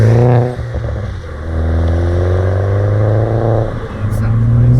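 Engine of a modified R56 John Cooper Works MINI drones loudly from inside the car as it accelerates, rising and falling with gear changes, with a steady low rumble and harmonic whine, and voices briefly audible over it.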